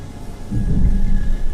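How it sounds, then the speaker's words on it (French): Low, rumbling thunder from an approaching storm swells in after a brief quiet moment and rolls on steadily, deep and fairly loud, with no voices over it. "Oh putain, les éclairs là, ça se rapproche vraiment."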